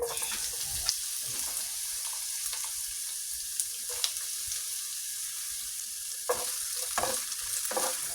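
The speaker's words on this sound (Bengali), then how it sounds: "পেঁয়াজটাকে কিছুটা ভেজে নিতে হবে" Chopped onions fry in hot oil in a pot for a hilsa fish and potato curry, giving a steady close sizzle with a few sharp scrapes and clinks from stirring.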